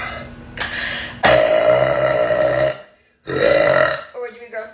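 A woman burps loudly several times: a short belch, then a long drawn-out one, another sustained burp after a brief gap, and a few small croaky bursts at the end. The sounds are close, strong and alone.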